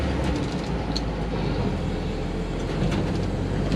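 An Austin Gipsy G4M10 with Flexitor suspension and a canvas top drives along, its top frame rattling over a constant broadband road and engine roar, with faint intermittent ticks and clatters.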